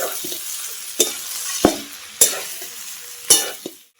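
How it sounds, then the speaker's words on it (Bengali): Jackfruit and prawns fry in a pan with a continuous sizzle, broken by four or five sharp spatula knocks and scrapes against the metal at irregular intervals. "এগুলো এখন আরেকবার ভালো করে ভেজে নেব হালকা করে"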